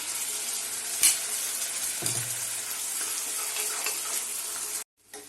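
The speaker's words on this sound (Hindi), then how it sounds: "अब इसमें हम ये मसाला पेस्ट डाल देंगे जो हमने पीस कर तैयार किया हुआ है।" Ground masala paste with onion and capsicum sizzling in a kadhai, a steady hissing fry with a couple of stirring knocks, close and even, cut off abruptly near the end.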